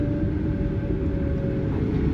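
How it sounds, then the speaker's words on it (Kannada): A steady low rumble of a Vande Bharat train running towards Mysuru, heard from inside. There is a constant rolling drone with a faint hum and no talking. "ಸ್ಟೇಷನಲ್ಲಿದೆ ಟ್ರೈನು."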